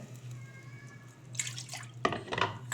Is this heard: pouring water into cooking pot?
yes